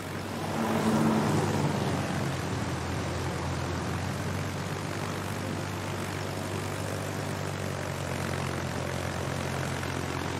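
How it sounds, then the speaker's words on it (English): A fighter aircraft's propeller engine in a naval carrier game drones steadily, a constant mid-loud hum that swells slightly early on and holds an even tone throughout. "Fighter airborne."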